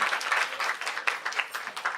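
An audience at a play school event applauds briefly, a dense patter of many hands clapping at moderate distance for about two seconds.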